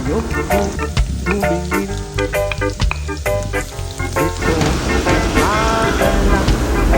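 Garlic sautés in a pan for ginataang kalabasa and sitaw, a loud, continuous sizzle mixed with strong tonal sounds and occasional knocks.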